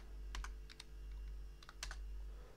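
Computer keyboard typing a MySQL query, a few quick clusters of close key clicks over a low steady hum, with no talk.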